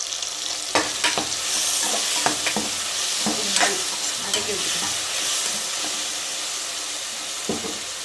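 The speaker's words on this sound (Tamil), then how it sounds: "தக்காளி வெங்காயம் போட்டிருக்கோம் அது நல்லா வதங்கட்டும்" Tomato and onion sautéing in a pan for a spicy Tamil-style mutton curry, a loud close sizzle broken by repeated clanks and scrapes of a spoon stirring, with no voices.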